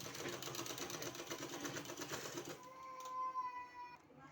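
Sewing machine stitching fabric for narrow trousers, a fast steady rhythmic clatter close up for about two and a half seconds, then stopping and leaving a faint hum.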